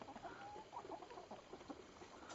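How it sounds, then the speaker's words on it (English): A rooster among free-ranging chickens gives soft clucks and short calls, faint and somewhat distant, in a quiet outdoor setting with no talking. "Oh, it's a rooster."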